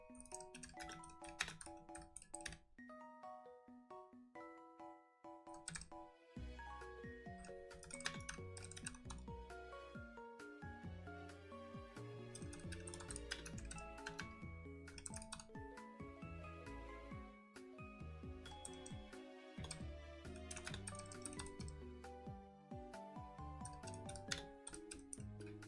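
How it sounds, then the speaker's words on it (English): Keys on a computer keyboard tapping in quick, uneven bursts throughout, close and fairly soft, with brief pauses between runs and music playing underneath. "If I can type properly."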